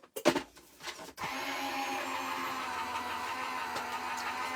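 A paper card fed through a die-cutting machine, opening with a few short clatters before a steady mechanical whir runs on, close and moderately loud.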